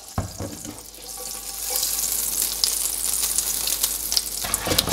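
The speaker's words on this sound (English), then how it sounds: "let's give it some unsalted butter and about a tablespoon of olive oil" Unsalted butter and olive oil sizzle and crackle loudly in a hot pan, a steady broadband hiss that builds and stays close and continuous.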